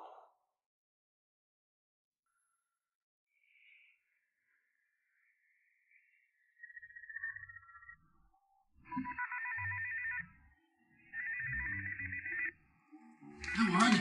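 A telephone rings in a quiet room during a crime drama, two long bursts of warbling electronic ringing with short gaps between, while someone speaks quietly under and around the rings.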